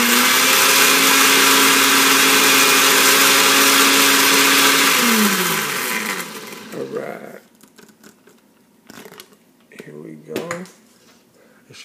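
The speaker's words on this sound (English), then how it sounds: "I'm gonna go around with the blender." A blender making tomatillo salsa runs loudly with a high whirring drone for several seconds, then winds down, followed by clattering and a few short bursts of mixing.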